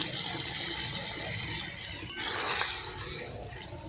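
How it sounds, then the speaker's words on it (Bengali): Rinse water is poured into a cornflour bowl for chilli chicken, a continuous close splashing trickle that swells slightly near the end, with no voices. "কর্নফ্লাওয়ারের বাটিটা এই ধুয়ে জল দিয়ে দেবো"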